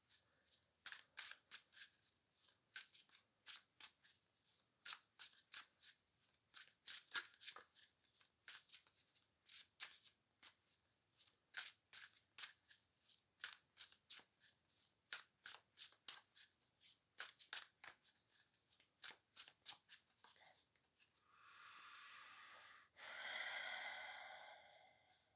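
Thick, almost cardboard-like oversized cards being shuffled, a long run of crisp riffling snaps and slaps in irregular bursts, close and quiet, ending with a soft breathy exhale.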